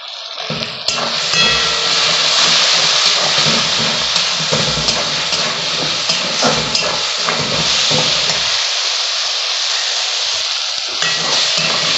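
Onion and tomato gravy sizzles and fries in a pan with turmeric and chili powder, a steady close hiss with stirring scrapes that drops away near the end before briefly returning.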